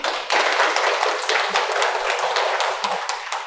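A university class applauds a student discussion group, several people clapping together at close range in a quick, uneven patter that lasts a few seconds.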